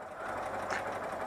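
A Citroën 2CV engine, fairly warm, idles without choke with a steady, slightly uneven chugging rumble, close by and continuous.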